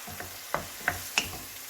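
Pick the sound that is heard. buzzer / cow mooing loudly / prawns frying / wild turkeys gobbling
prawns frying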